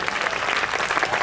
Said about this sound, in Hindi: और तालियां इस बात पर चाहूँगा